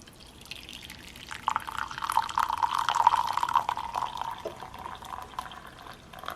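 A drink is poured into a glass, a close, gurgling stream of liquid that swells, then trickles and drips off, fairly quiet and with no talking.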